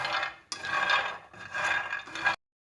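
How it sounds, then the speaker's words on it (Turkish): Hazelnuts roasting in a dry pan give three close bursts of rattling, scraping crackle as they are stirred and tossed, with short quiet gaps between. "Fındıklarımızdan çatır çutur sesler gelmeye başladı"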